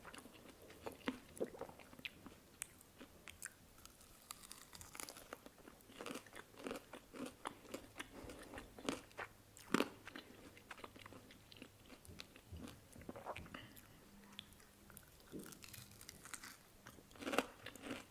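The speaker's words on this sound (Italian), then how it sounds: "secondo me il pollo fa un rumore perfetto per questi video" Crunchy fried chicken bitten and chewed close up, with repeated sharp crackling crunches and wet chewing in an uneven rhythm throughout, no talking.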